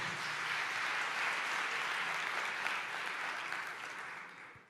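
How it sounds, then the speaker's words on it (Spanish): A church congregation applauds steadily throughout, a dense, sustained clapping that stays full and loud before tapering slightly at the end. "Dale un aplauso al Señor por eso."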